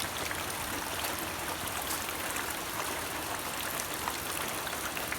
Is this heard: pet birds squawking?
no